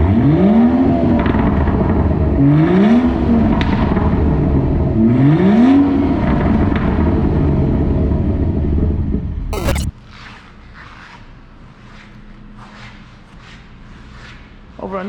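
BMW 340i M Performance exhaust on a 2018 xDrive, revving in three rising sweeps that climb and fall back, loud and close, before cutting off to a quieter settled idle.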